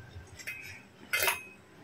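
Metal utensils clink against a pot while milk sweets are strained out of thick malai, a couple of faint scrapes followed by one brighter, louder clatter, heard close with no talking.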